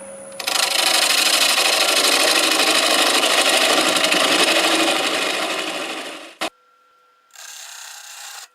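Wood lathe spinning an English walnut natural edge crotch bowl at about 700 RPM while a 1/2 inch 40/40 grind gouge cuts: a loud continuous rough hissing shear that fades out, a sharp knock, then a shorter cut resumes.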